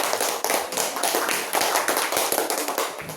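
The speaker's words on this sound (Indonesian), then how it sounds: "Kita tepuk tangan sekali lagi ya, semuanya." A class of young schoolchildren clapping their hands together in a classroom, a dense, continuous patter of many hands for about three seconds at steady loudness, with no talking.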